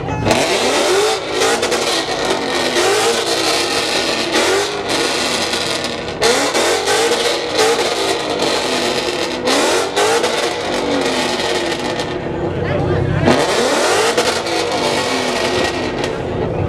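An S550 Mustang engine revs hard again and again, loud and close, each rise in pitch breaking off and starting over, with a brief drop near the twelve-second mark before it climbs again.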